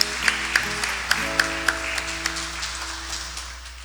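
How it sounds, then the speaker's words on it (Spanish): A church congregation applauding at a Saturday Mass, a handful of distinct claps standing out early before the clapping thins and fades away over a few seconds, with a tonal hum running underneath. "le damos el aplauso a Santiago."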